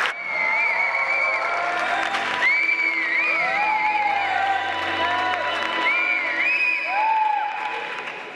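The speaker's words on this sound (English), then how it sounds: "So I want you to please give a big round of applause to all those societies who have made this" Audience applause with some cheering at a university event, thanking the organizing societies: steady, dense clapping throughout, loud and sustained, with crowd noise underneath and no talk.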